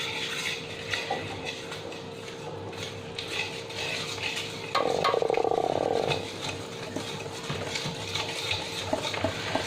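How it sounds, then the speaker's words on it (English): Buttermilk cake batter is whisked in a bowl, giving steady scraping and stirring close by, with a brief louder burst of rapid whisking in the middle. "and now we'll whisk it nicely"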